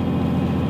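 A Cummins 12-valve turbo-diesel engine in a 1998 Dodge Ram 3500 dually idles with a steady low rumble and rhythmic knock, close and continuous.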